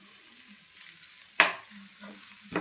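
Goat tripe fries in a pan with masala and tamarind leaves while a spoon stirs it, giving soft continuous sizzling with a few scraping strokes and one sharper clatter, close and without talk.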